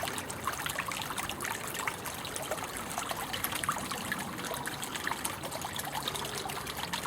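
Steady, close trickle of water running into a newly relined garden pond, a continuous bright dribbling and splashing with no voices.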